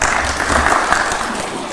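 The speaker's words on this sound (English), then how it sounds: "Another round of applause for His Excellency." A brief, loud burst of dense applause from a crowd at a formal military leadership ceremony, close and steady throughout.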